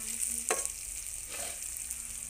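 Onions frying in a pan, a steady close sizzle with a couple of brief stirring scrapes and no talking.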